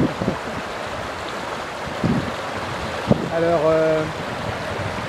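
Water flowing at the mouth of the Étang Saint-Paul lagoon on Réunion, a steady broadband rush with wind buffeting, while someone speaks briefly over it.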